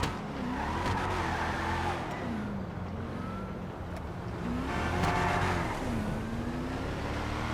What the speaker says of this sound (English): Let's give it a drive though, see what it sounds like in case anybody's interested.